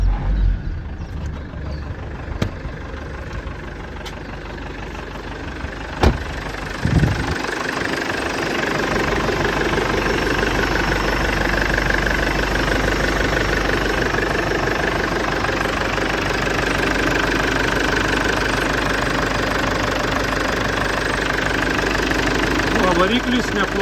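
A 2.9-litre 120 kW Hyundai Terracan diesel engine starts after a few brief knocks and settles into a steady, loud idle with a rough, clattering rumble that runs unbroken to the end.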